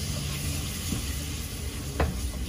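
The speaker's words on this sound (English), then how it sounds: "After adding capsicum and cooking it for a few minutes, we're going to add chopped tomatoes." Vegan mince and capsicum sizzle steadily in a hot pan as chopped tomatoes go in, with a constant frying hiss broken by a couple of soft stirring knocks.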